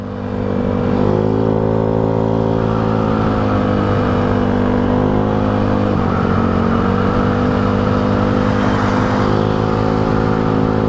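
A Yamaha Mio Sporty 160cc motorcycle on the move gives a close, steady engine drone that barely varies in pitch and holds throughout without any talk.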